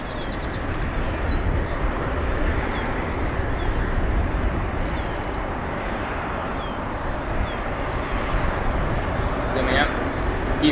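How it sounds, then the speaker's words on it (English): A Nippon Cargo Airlines Boeing 747-8 lands at O'Hare with a steady, fairly loud engine rumble and rushing wind noise throughout, and a voice may be faintly mixed in. "Our next landing here happens to be a Queen"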